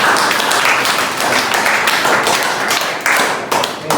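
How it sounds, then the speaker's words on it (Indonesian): Audience applause after a presentation at a university teaching session, dense close clapping from a room of people, loud and steady for about four seconds before thinning at the end. "Kita beri aplaus dulu."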